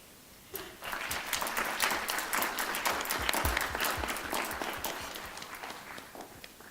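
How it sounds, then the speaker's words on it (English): An audience gives a round of applause for a speaker at an evening talk, dense clapping that starts abruptly and swells, then holds steady and slowly thins, with no voices over it. "So just give a round of applause for Marie Gervais."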